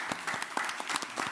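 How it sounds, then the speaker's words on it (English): A board meeting audience bursts into a brief round of applause for a staff member, with quick overlapping claps from a small room crowd, close and fairly loud for just over a second. "you deserve a round of applause"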